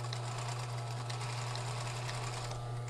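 A sewing machine runs steadily, stitching the seam of a floral robe with a continuous close mechanical whir and a strong low hum throughout, no talking.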